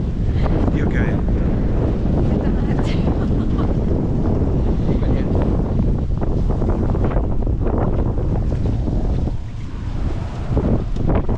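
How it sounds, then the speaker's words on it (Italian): Strong wind buffets the microphone outdoors in the Douro Valley in winter, a loud, unbroken roar that drops briefly near the end before surging back. "Dio che vento."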